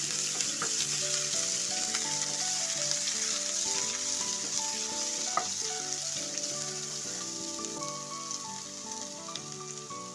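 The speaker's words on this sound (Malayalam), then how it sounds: "എണ്ണ ചൂടായിട്ടുണ്ട്. അതിലേക്ക് ഇഞ്ചിയും വെളുത്തുള്ളിയും കൂടെ ചതച്ചത് 1 ടേബിൾ സ്പൂൺ." Crushed ginger and garlic sizzle and fry steadily in hot coconut oil in a pan, a dense continuous crackle heard up close with no talking.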